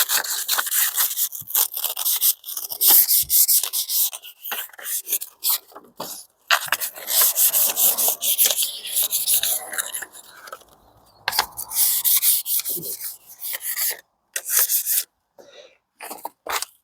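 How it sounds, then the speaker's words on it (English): Bamboo garden canes being sanded by hand, close and dry, in bursts of rasping strokes separated by short pauses. "Sand down your poles, your bamboo canes,"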